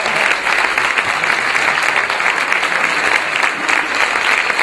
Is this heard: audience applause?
yes